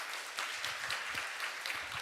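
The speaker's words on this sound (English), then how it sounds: "Let's give a round of applause for Junwoo to welcome." Brief, steady audience applause at an international development conference, a dense burst of clapping heard alone.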